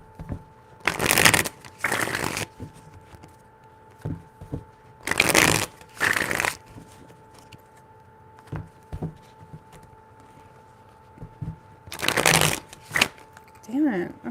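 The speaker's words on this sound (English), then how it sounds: "Three shuffles." A deck of playing cards is riffle-shuffled three times in short, crisp bursts of rapid flutter, spaced a few seconds apart with quiet handling between, close and moderately loud, with a steady faint hum underneath.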